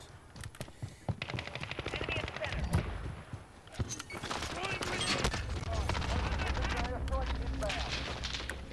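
Bursts of automatic gunfire and scattered shots crackle in a Modern Warfare shooter match, dense and loud, mixed with explosions-like thumps, while a player talks over the action.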